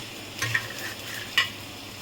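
Ginger and spices fry in a pan with a soft steady sizzle, broken by two brief scraping stirs of a utensil against the pan.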